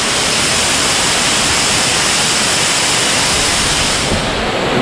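Kabaragovidola waterfall gives a steady, dense roar of falling water, loud and unbroken, with no voices over it.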